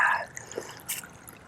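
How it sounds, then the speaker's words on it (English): Water trickles and drips briefly onto a cloth bandana outdoors on a hot day during a running workout, a few soft splashes and drips, close and fairly quiet, with no talking. "Put some water on my bandana."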